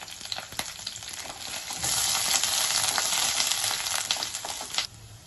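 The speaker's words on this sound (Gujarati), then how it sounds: "હવે આપણી ડુંગળી ફ્રાય થઈ ગઈ છે" Chopped onion frying in a pan with curry leaves and chillies, a steady close sizzle that swells in the middle with scattered spoon clicks, then drops away near the end.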